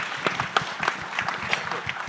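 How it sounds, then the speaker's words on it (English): Audience clapping for a panel of speakers at a film festival, a brief patter of scattered claps at moderate volume with no voices over it. "round of applause,"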